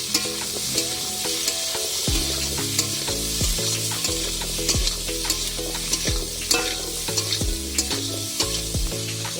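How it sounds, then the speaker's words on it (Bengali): Potatoes sizzle in oil in a pan while a spatula stirs and scrapes them in repeated strokes, with clanks against the pan over a steady frying hiss and no voices. "আলুটা দিয়ে ভালো করে কষাতে হবে তারপরে ভাজা করতে হবে"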